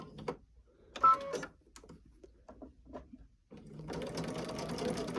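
A sewing machine stitches a table runner: scattered ticks and short taps from the needle setup, then a steady close mechanical whir of running stitches over the last second or so.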